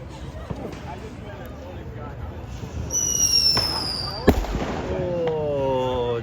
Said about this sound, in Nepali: अब त्यो पटेका दामी पड्किन आँटिरहेको छ